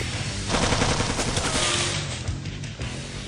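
Dense video game machine-gun fire rattles continuously in a loud, close fusillade, tapering toward the end.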